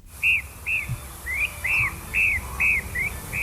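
Zone-tailed hawk, a mimicking, range-expanding Buteo, giving a series of about eight short whistled call notes in quick succession, clear and fairly near over faint background hiss.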